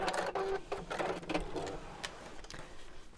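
A sewing machine stitches along the lined-up fabric edges of a box pleat cosmetic pouch, running in quiet short bursts with brief pauses between.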